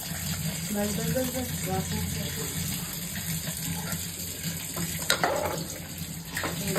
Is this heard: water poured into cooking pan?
yes